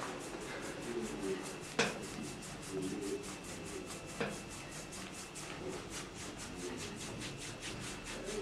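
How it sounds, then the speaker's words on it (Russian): Steady rhythmic rubbing from a sawing-style massage stroke worked across the neck and shoulder collar area, a soft brushing swish repeating evenly throughout with a couple of sharper taps, close and quiet. "Затем переходим к следующему приему, более глубокому приему растирания"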